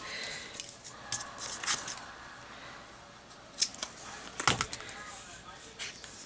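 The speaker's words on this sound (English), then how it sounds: "I'm going to take my scissors and cut the ends off." Scissors snipping the ends off a ribbon bow on a layered lily card, a handful of sharp, close crisp cuts spaced irregularly over quiet room tone.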